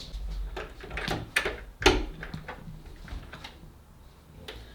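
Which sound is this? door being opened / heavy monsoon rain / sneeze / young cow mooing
door being opened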